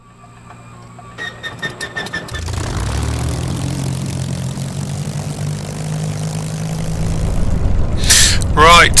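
A Spitfire engine in Microsoft Flight Simulator catches with a few stuttering coughs, then settles into a deep, steady propeller drone that swells louder toward the end, with someone talking over it.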